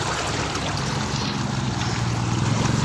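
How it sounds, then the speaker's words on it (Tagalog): A strong river current rushes past in a loud, steady, broadband roar with no pause. No one speaks. "Naku po, ang lakas ng agos"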